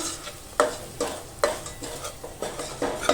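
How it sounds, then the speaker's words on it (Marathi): Malvani masala and garam masala sautéing in oil, a soft sizzle broken by rhythmic scrapes of a spoon stirring the pan roughly every half second. "एक चमचा गरम मसाला तो पण तेलावर असा परतून घेऊया"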